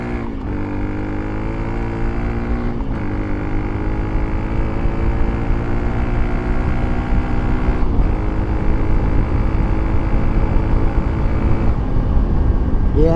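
Honda CRF300L motorcycle with an aftermarket exhaust pulling hard toward 8,000 rpm, engine pitch climbing steadily, then dropping at each gear change, loud and close throughout.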